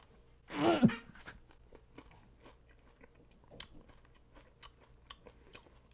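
Someone eats an edible tarantula, opening with a loud close crunch followed by several seconds of softer, irregular chewing and crackling, with no talk over it.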